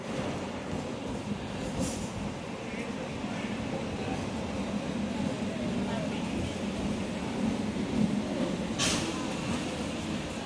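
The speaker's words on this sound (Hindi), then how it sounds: "विधाननगर के लिए लोकल ट्रेन प्लेटफॉर्म नंबर 2 पे आएगी" A local train rolls along the platform at a Kolkata station, a steady rumble of wheels and carriages with faint clatter and a brief squeal, heard at moderate level amid station bustle.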